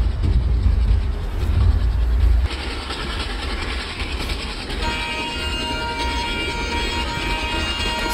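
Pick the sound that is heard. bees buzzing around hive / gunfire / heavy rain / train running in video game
train running in video game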